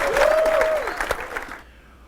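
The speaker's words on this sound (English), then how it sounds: "Give me another round of applause." An audience gives a loud round of applause that fades out sharply after about a second and a half. A whistle or voice rises over it at the start.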